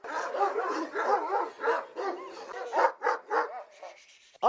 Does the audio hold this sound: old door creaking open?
no